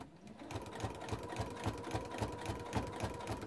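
Domestic sewing machine running steadily as it stitches around the edge of a fabric appliqué circle for a quilt, a fast regular needle chatter with a light motor hum, close and continuous.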